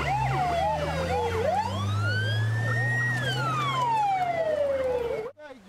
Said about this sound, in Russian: Вой сирен нарушает привычную тишину села